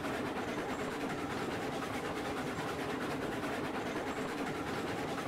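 A train rolls along rails in the railroad game Railroads Online, a steady continuous rumble with faint rhythmic clatter from the wagons, moderately quiet and unbroken throughout.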